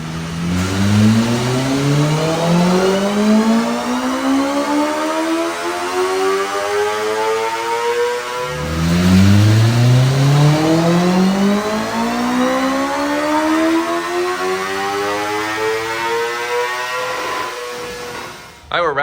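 BMW M1000RR motorcycle on a dyno in second gear, its engine revving loudly in two long rising sweeps, each climbing steadily in pitch before dropping back, close and continuous throughout.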